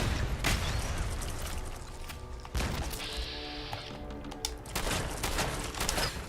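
Gunfire and a grenade blast in the Fallout 4 video game, a burst of loud sharp shots and impacts with a ringing tone between them, close and dense.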